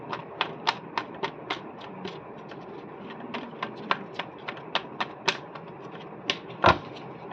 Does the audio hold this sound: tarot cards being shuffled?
yes